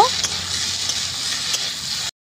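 Boiled taro pieces stirred and frying in a pan with dried fish, onion and chilli give a steady bright sizzle with faint scraping touches, then stop abruptly.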